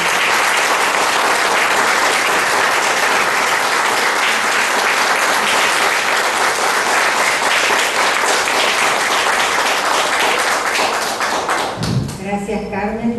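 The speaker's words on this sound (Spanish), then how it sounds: "un gran aplauso para María Granata." A large audience gives a long, loud, dense round of applause at a 2015 literary homage for María Granata in Gente de Letras. The clapping tapers off near the end as a voice begins.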